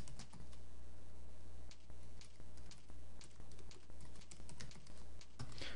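Someone types on a computer keyboard while editing an index.html page, with quick, irregular key clicks over a steady background hum.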